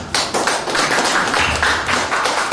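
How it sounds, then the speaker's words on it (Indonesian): Applause from the audience at a public discussion with parliamentary (DPR-RI) candidates, loud and continuous clapping from many hands that swells in uneven waves without pause. "Tepuk tangan."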